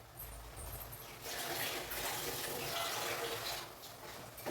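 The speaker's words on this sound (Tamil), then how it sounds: "இப்போ நம்ம தேவையான அளவு தண்ணி ஊற்றிக்கணும்." Water is poured steadily into tomato chutney in a cooking pot, with a soft rushing splash that swells after a brief pause and holds for several seconds before tapering.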